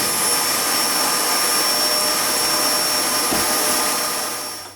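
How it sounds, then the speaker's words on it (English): A vacuum cleaner hoovers lint out of a White Knight tumble dryer, giving a steady, loud, broadband roar with a high whine that holds for several seconds, then cuts off at the end. "you want to get a vacuum cleaner and hoover all this out"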